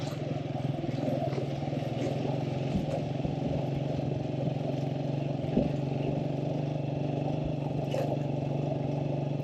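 A motorcycle engine drones steadily while riding over rough, potholed off-road ground, with occasional clatters and knocks from the bumpy terrain over a constant low rumble.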